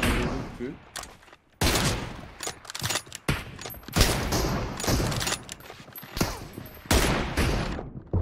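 Bursts of gunfire rattle through a Turkish tournament match of Fury vs M7 in a shooter game, with sharp broadband volleys recurring across the clip while players talk and call out over the shooting.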